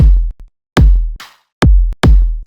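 Four punchy layered kick drum hits, each a deep booming body topped with a bright wavetable synth layer, played alone in an uneven rhythm with short gaps and a quieter blip and a noisy synth swell between hits.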